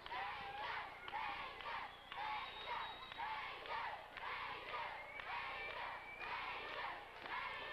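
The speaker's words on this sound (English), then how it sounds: "And the crowd is chanting for Ranger." A school gym crowd at a wrestling event in Reading, Pennsylvania chants for Ranger 7 in rhythmic, repeated shouted bursts, fairly faint and roomy with overlapping voices.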